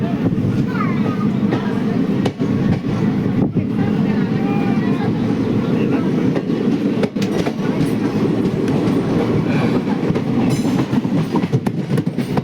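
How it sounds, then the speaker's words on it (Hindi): Ballia Express train at Bandel Junction, a loud continuous rumble of carriages and station bustle with occasional clanks and brief squeals, steady throughout with crowd murmur beneath. "तो अब हम लोग की ट्रेन आ चुकी है इस जर्नी के सेकंड हॉल बैंडल जंक्शन पे"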